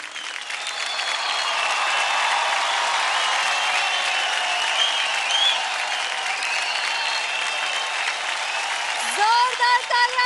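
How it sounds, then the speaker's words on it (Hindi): A television dance-show studio audience applauds for a performer, dense sustained clapping that swells and holds, with cheering voices and a speaking voice rising near the end. "जोरदार तालियां नीरव के लिए"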